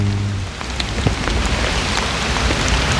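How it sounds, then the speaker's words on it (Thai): Rain falls steadily on the ground in a dense, close hiss with scattered sharper drop impacts and no voices. "ฝนนี่ตกดินแบบนี้"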